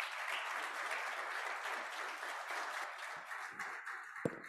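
A Kiwanis club audience claps steadily in a meeting room, a dense wash of applause that holds for several seconds and then thins out.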